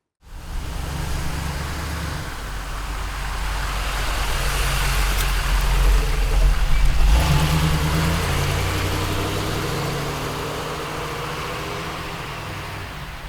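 The engine of a 1979 Chevrolet Blazer runs with a steady low rumble that swells slightly in the middle, heard up close and continuously for over ten seconds.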